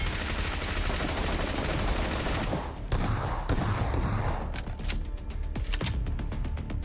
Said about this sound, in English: Sounds like Shotgun Haven down there.